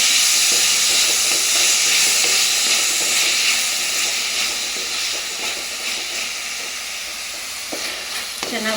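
Tomatoes frying in a pan for mushroom masala give off a steady, loud sizzle and hiss that runs throughout, with faint stirring scrapes near the end and no talking.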